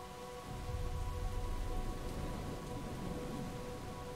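Steady rain pours down in the video game Brothers: A Tale of Two Sons, a dense, even hiss of falling drops with a low rumble underneath and a faint constant tone, no voices.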